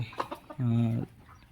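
A poultry-farm chicken lets out one drawn-out, nasal cluck close by while feeding, with softer clucking and scratchy noises before and after it.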